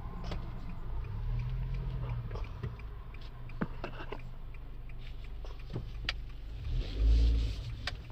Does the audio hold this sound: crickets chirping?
no